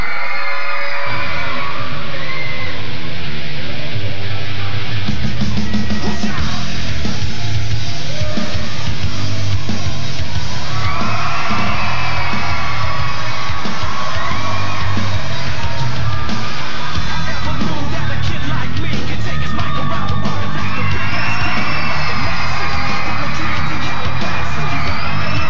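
Sustained loud cheering and yelling from an audience at a Power Team strongman show in Rock Island, Illinois, with high children's screams and whoops over a rumbling crowd and music, swelling in waves for nearly half a minute.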